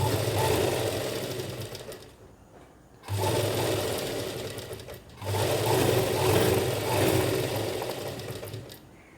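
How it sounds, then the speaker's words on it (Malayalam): Sewing machine stitching a dress, running in loud close bursts of rapid, even stitching separated by short pauses, with no talking. "ഇവിടുന്ന് ഇങ്ങനെ സ്റ്റിച്ച് ചെയ്ത് തുടങ്ങാം"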